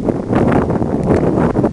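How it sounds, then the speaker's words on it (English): Steady broadband wind rushing and buffeting across a microphone on an outdoor country walk near a lake, fairly loud and continuous with gusty swells and no talking. "the wind's picked up"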